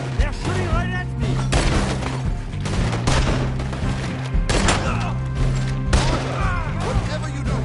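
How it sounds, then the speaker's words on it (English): Rapid gunfire bursts rattle through a PS4 shooter game, layered with heavy thuds and booms and steady game music underneath, loud and continuous, with repeated volleys across the span. "They're shooting right at me!"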